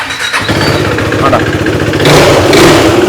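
A second-hand motorcycle's engine idles loudly up close in a showroom, then revs higher toward the end while a person talks over the noise.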